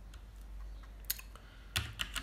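A command is typed on a computer keyboard while setting up a Raspberry Pi 4: a few soft, scattered keystrokes near the mic against a steady low hum, with a louder cluster of clicks near the end.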